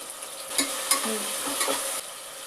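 A close pan of spices and curry leaves fries for a sprout pulao with a bright, steady sizzle and a few scraping stirs, and the hiss drops off near the end, no voices.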